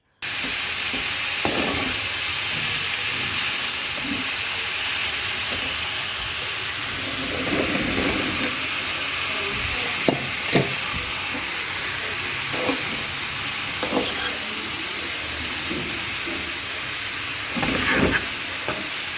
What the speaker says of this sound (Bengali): শাকগুলি একটু হাই হিটে রেখে রান্না করতে হবে